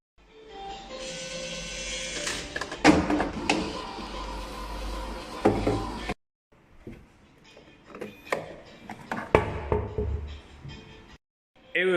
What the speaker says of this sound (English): At the bottom of the machine, there is a conveyor belt. It will deliver the medicine balls to the pickup place.